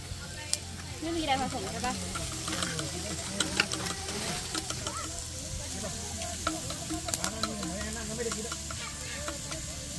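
Pork sizzles steadily on a hot Thai grill pan (moo kra ta) with occasional scraping and crackles, while someone talks over the cooking at a homestay in Phetchabun, Thailand.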